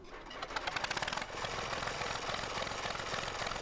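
A Valmet 359D tractor engine idles in Farming Simulator 2015, a quiet, rapid mechanical chugging with a steady rhythmic pulse that holds evenly throughout, with no speech.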